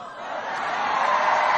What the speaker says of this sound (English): Booing doesn't help.